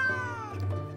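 Cartoonish cats meowing in a Genshin Impact version trailer, a couple of drawn-out, pitch-sliding meows over a steady low musical drone, loud and close with no talking.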